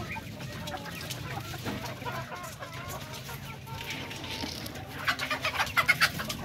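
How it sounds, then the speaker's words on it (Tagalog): Chickens, including native Darag chickens, and ducks cluck and call amid a busy farmyard chorus of bird calls and cooing, with a louder run of rhythmic clucks near the end. "Yan, bibe, manok, yan po ang mga alaga natin dito"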